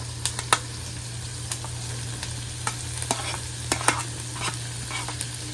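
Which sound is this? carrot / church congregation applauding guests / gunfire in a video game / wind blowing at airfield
carrot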